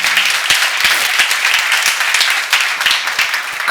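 A church congregation at a Jesus Centered Church seminar breaks into brisk applause, many close, sharp hand claps forming a loud, dense patter that runs steadily for several seconds.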